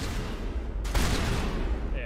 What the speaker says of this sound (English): Shotgun to the face.